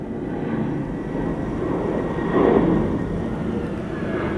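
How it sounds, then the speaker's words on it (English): A large C-3 transport airplane passes overhead with a broad, steady engine rumble that swells briefly at its loudest midway through, then holds at a distant, even roar. "oh, there goes an airplane overhead."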